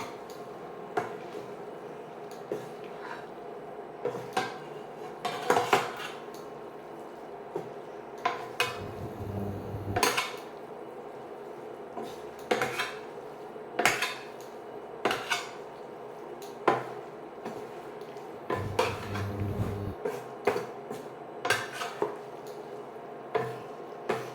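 Tom Yum pasta being tossed and stirred in a pan, with repeated clinks and scrapes of a utensil against the metal at an irregular pace over a steady low background hum; nobody speaks.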